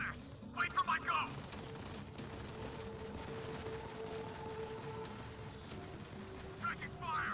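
Sustained gunfire from the mobile shooter Modern Combat 5 Blackout rattles steadily throughout, with a short burst of heavier shots near the start and more at the end, under radio-style voices talking.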